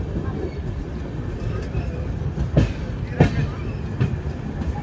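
The Karnataka Sampark Kranti Express runs through Kazipet station without stopping, a steady low rumble of the coaches with a few sharp clanks and thumps from the wheels over joints, fairly close and continuous.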